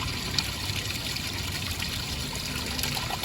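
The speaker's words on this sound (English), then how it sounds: "give it a good flushing so you can see the toilet paper coming down" Water rushes steadily through an RV black water tank, flushing out toilet paper and debris: a continuous, fairly loud hissing wash with no breaks or talking.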